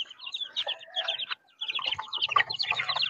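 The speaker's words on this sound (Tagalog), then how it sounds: "Yung sisiw na to." A young chick chirps close by, with busy high peeping that breaks off for a moment and then resumes, along with some low clucking from nearby fowl.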